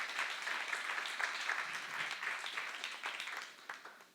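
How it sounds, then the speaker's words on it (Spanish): A church congregation applauds in a short, dense burst of clapping that holds steady and then tapers off toward the end. "Dale un aplauso al Señor, porque para Él es la gloria siempre."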